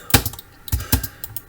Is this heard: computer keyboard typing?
yes